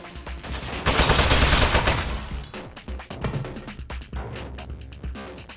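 Rapid turret gunfire in the video game Aperture Desk Job, a loud dense burst of shots followed by sharper, more scattered cracks and impacts, with no talk over it.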